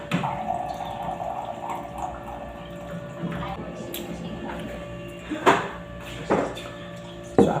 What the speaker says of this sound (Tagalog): So, lalagyan lang natin ng tubig na mainit